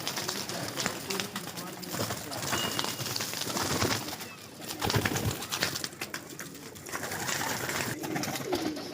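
Pigeons coo in a loft or rooftop coop, soft throaty calls scattered through the clip beneath someone talking almost throughout, with occasional rustling and wing movement nearby.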